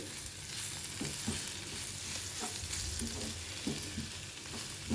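Ivy gourd pieces fry in a pan with roasted gram spice powder, giving a steady close sizzle broken by regular scraping stirs of the spoon, with no voices.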